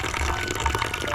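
Water running weakly from a tap fed only by gravity from a distant tank, a soft steady splashing trickle, close and unbroken for about a second.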